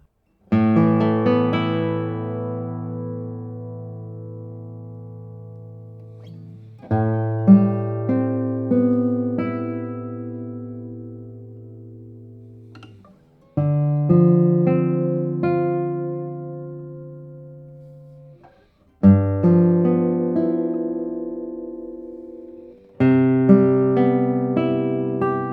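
Italian acoustic guitar with Indian rosewood back and sides, strummed in full chords about five times, each ringing out and slowly decaying before the next, close and clear with no talking.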